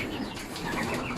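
Homing pigeons back from training, soft cooing mixed with fluttering wing flaps, close and busy over a dense background for about a second.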